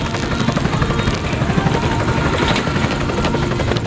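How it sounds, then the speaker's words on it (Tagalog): A helicopter passes overhead on a Christmas-season outing, its steady rotor roar loud and continuous throughout with no voices. "May helicopter."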